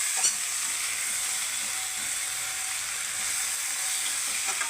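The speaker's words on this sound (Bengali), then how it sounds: "আমরা এইভাবে ভাজা নিতেছি।" A fish head fries in oil in a pan, giving a steady, close, even sizzle and hiss that runs throughout without speech.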